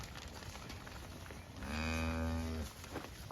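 Cattle on a cattle drive between farms, with one clear, drawn-out moo rising near the middle, close and loud over a low outdoor background of rustling and faint herd noise.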